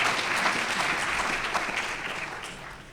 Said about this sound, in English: let's give a round of applause to the ambassador of Chad